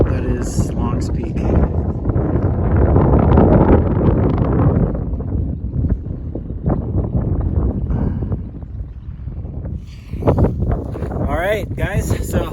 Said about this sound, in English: It's really kind of windy, but this is a really nice spot.